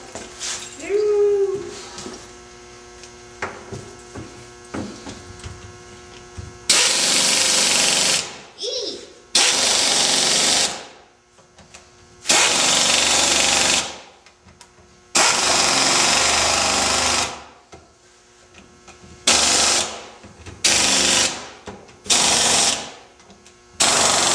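A pneumatic impact gun drives bolts while a winch is installed on a welded angle-iron and box-tubing mount, firing in several loud, harsh bursts of a few seconds each, separated by short pauses, with faint talk and movement before the first burst.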